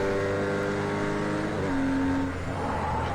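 A Bugatti race car in a racing video game holds a sustained, droning engine note that dips and shifts pitch under braking and turning, loud and continuous with no voices.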